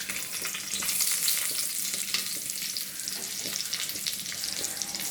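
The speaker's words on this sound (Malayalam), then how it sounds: "ഇനി ഇതിലേക്ക് നമുക്ക് സവാള ഇട്ട് കൊടുക്കാം." Sliced onion frying in hot oil in a clay pot, a steady loud sizzle and crackle with faint stirring scrapes throughout, no voices.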